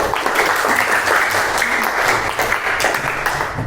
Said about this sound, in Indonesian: Bu Puji minta tolong tepuk tangannya untuk Mbak Mariska.